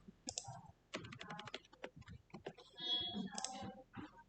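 Computer keyboard keys tapped while typing code, quick irregular clicks in short bursts with brief pauses, close and fairly quiet.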